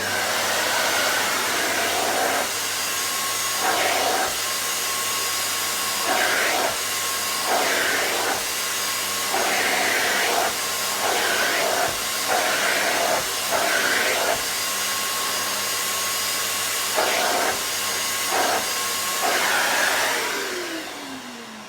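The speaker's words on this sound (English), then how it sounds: "It's got pretty good powerful suction by the looks of it, and it doesn't seem to be particularly noisy" A Vytronix MFW1600 4-in-1 vacuum cleaner runs steadily with a loud, continuous motor whine and airy suction hiss, its pitch dipping and rising repeatedly as the head is pushed over carpet, then winding down at the end.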